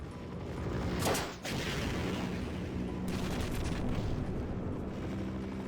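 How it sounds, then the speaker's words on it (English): Two heavy explosive blasts from a rocket launcher in Half-Life roar out a couple of seconds apart, each with a rushing boom over a constant low rumble. "One of the rockets missed."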